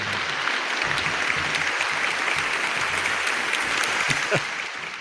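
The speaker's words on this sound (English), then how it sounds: "Let me go ahead and give us some applause, man." Studio applause opening a weekly podcast episode, a steady broadband wash of clapping filling the whole stretch, with a faint voice briefly underneath.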